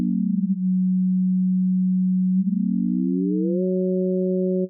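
Zebralette 3 synth tone held steady, then its upper harmonics glide down and settle as spectral distortion compression is raised, a clean sustained electronic tone playing alone.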